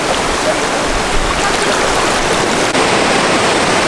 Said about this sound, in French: Il y a des belles vagues les amis